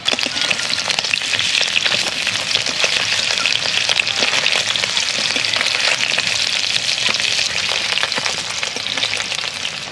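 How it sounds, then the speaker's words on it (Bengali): Cubes of paneer frying in a pan of hot oil, a steady, loud, crackling sizzle that holds evenly for the whole stretch, close up with no voices. "পনিরগুলোকে খুব লাল লাল করে ভাজার দরকার নেই, মোটামুটি এপিট ওপিট একটুখানি কালার ছেড়ে গেলেই তুলে নেব।"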